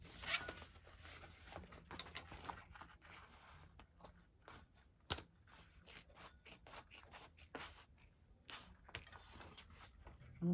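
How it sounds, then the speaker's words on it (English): Zipper pulled closed on a sewn bag made on a cylinder-arm sewing machine, heard as scratchy, uneven rasping bursts with short pauses over about ten seconds, fairly quiet and close. "Zip that up."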